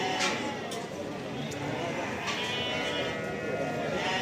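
Sheep and lambs bleat at the Barda sheep market in Azerbaijan, scattered calls rising over a busy, crowded outdoor murmur with people talking nearby.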